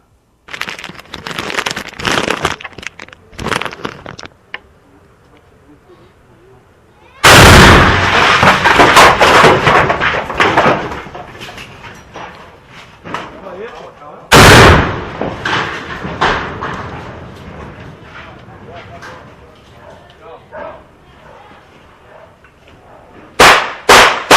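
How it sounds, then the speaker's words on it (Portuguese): Sharp, loud gunshot-like bangs crack out at irregular intervals, some isolated and some in rapid clusters, with quieter rumbling and clatter between them. "Quem que tá dando tiro aí, cara?"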